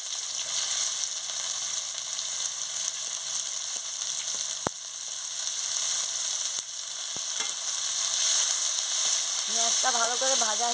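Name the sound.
onions sizzling while frying in oil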